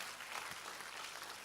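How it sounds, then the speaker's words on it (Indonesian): Church congregation applauding during a sermon, a brief burst of soft, distant clapping across a large room, faint and steady. "Tepuk tangan buat."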